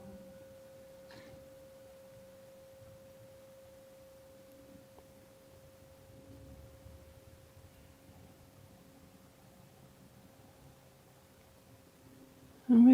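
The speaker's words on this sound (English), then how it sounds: "to the very end of the bell." A meditation bell's long, steady ringing tone sustains quietly for about twelve seconds, slowly fading in a still room before a brief louder sound at the very end.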